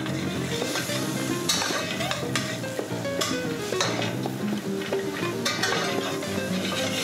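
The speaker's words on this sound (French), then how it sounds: "Donc on va laisser revenir les oignons, les lardons." Onions and bacon lardons, started in a cold pan, fry with a continuous sizzle while a utensil stirs and clinks against the pan now and then.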